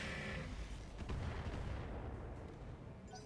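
Missile launches and explosions in the RogueTech mech combat game, a dense run of booming, rumbling impacts that blend into one sustained roar and then fade out. No voices are heard.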